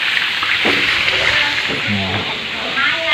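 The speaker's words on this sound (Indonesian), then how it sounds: "Ini digoreng. Goreng ini untuk buat tahu asin, dia crispy dia." Steady broadband hiss and crackle of tofu deep-frying in hot oil, continuous throughout, with a voice speaking faintly underneath.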